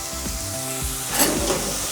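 Onions sizzle in heated oil in a pan for chilli con carne, a steady close frying hiss with a brief stir-like scrape near the end, no voices.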